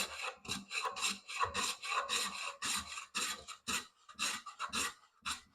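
A hand plane with a freshly sharpened cambered blade shaves walnut wood, a series of crisp rasping strokes in a steady rhythm, close and fairly quiet.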